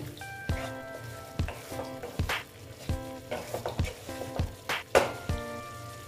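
Teasel gourd (kakrol) sautéing in a pan with chili powder, a soft steady sizzle broken by a dozen or so sharp clinks of a spatula against the pan, close and fairly quiet.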